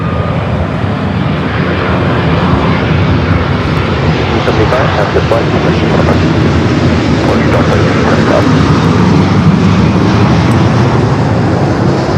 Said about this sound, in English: United 405, heavy Boeing 787